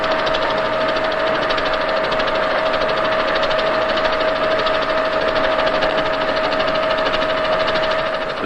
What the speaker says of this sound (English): Tungsten carbide gang cutters completely machine the bedways in one pass